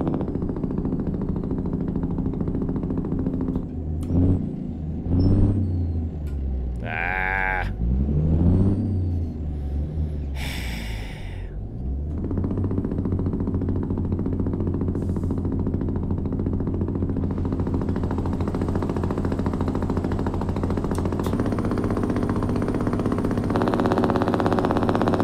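A Cummins N14 truck engine's light Jake brake setting from a truck video game mod, a rhythmic barking engine-brake rattle with revving sweeps, then a steady engine drone.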